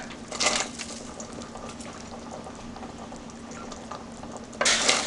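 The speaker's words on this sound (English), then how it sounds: "The meat is boiling, the pork" A pot of pork boiling bubbles and simmers steadily, with soft gurgling and a couple of louder hissing bursts at the start and end.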